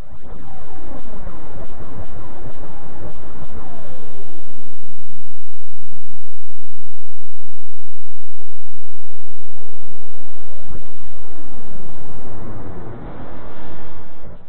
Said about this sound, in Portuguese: Os sons que você ouve foram emitidos por um buraco negro